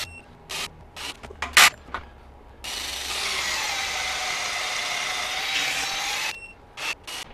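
A Milwaukee 2953 Gen 4 M18 FUEL impact driver on its high-torque setting drives a fastener up close. Several short bursts lead into a loud, sustained hammering run of about three seconds, followed by more brief bursts.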